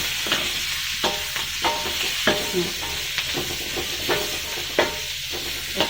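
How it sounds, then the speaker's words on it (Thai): Japanese curry ingredients stir-fried in a pan, a steady sizzle with regular scraping strokes of a utensil against the pan, close and continuous without speech. "แล้วจะผัดไปเรื่อยๆแล้วจะให้ดูตอนสุกแล้วนะคะ"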